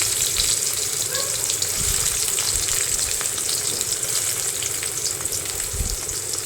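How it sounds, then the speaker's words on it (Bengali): Onions sizzle in hot oil for khichuri, a steady, close, hissing fry with faint crackles and occasional stirring knocks throughout. "যে মোটামুটি ভাজা হয়ে গেছে এবার আমি দিয়ে দেব পেঁয়াজগুলো"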